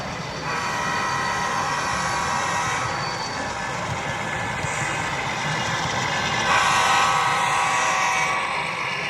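An HO scale model train rolls past on a layout at a model train show, a steady mechanical whir and rumble of the running locomotive amid a constant hall hum, swelling slightly toward the end.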